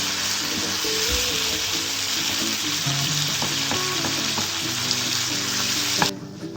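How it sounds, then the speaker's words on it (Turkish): Tomatoes and mixed vegetables frying in a pan give a steady close sizzle that runs throughout, with occasional stirring scrapes and light clinks and no talking. "Domatesler yumuşayana kadar pişireceğim."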